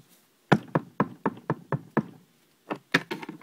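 Someone knocks on a door: a quick, evenly spaced run of about eight sharp, close raps, a short pause, then a few more knocks, with no voices.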